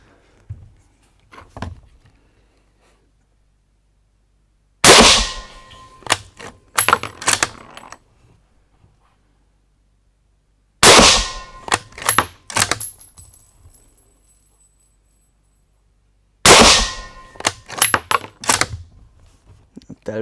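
A Gebirgsjäger G33/40 carbine rifle fires three sharp, loud shots on a 25-meter range, spaced several seconds apart, each followed by bolt-action clatter and mechanical clicks.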